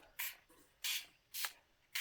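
A partly clogged Distress spray bottle squirting ink onto a craft background in three short, soft hissing bursts, close but quiet, with no voices.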